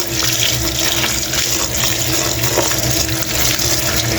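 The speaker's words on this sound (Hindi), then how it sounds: "इसको ऊपर से ठंडा पानी डाल दें कि जो आपस में चिपके नहीं।" Cold water runs steadily from a tap over boiled spaghetti in a colander, a loud continuous splashing rush close by with no speech.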